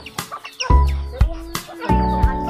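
Chickens clucking close by in a backyard flock, a run of short throaty clucks and calls in uneven bursts, with occasional other bird calls and a voice faintly in the background.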